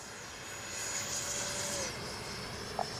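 A Freewing 90mm T-45 RC jet makes a slow pass with landing flaps down, a steady ducted-fan whine that swells slightly as the jet passes, then eases back.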